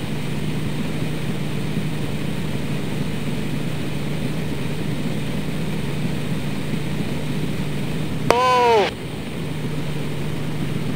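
A small aircraft's engine drones steadily throughout an aerobatic ride, with a brief sweeping tone near the end cutting over the constant cabin hum.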